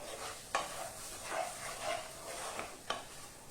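A spoon stirs chicken masala in a pan over a soft sizzle, with a few sharp scrapes and knocks against the pan; the sound is close but fairly quiet, and no one speaks.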